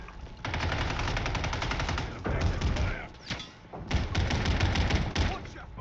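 Rapid automatic gunfire in the video game Warzone, Plunder mode, rattles in long sustained bursts with brief pauses, loud and close, while players talk over it.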